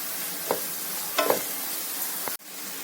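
Green chilli chicken frying with onions in a pan, a soft steady sizzle broken by a few stirring scrapes, heard close up with no talking.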